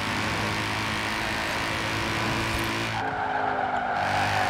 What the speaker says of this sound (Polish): Silnik od ciężarówki w samochodzie.